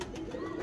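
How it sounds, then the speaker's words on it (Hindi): A brief, soft coo from a short-tailed pigeon, a low steady murmuring tone heard close but faint, lasting under a second. "छोटी दुम वाले कबूतर है जी, बड़े मशहूर छोटी दुम वाले कबूतर"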